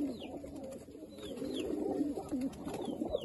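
Close, low cooing from a Teddy breed pigeon runs in repeated rolling phrases, with a few faint high chirps from other birds in the background.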